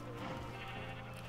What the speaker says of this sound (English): There is a sheep being pushed backwards against its will.